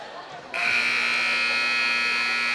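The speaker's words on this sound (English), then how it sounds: "that's the buzzer for this second game" A volleyball scoreboard buzzer at a girls' high school varsity game in a gym sounds abruptly after a quiet moment and holds a loud, steady electronic tone to the end.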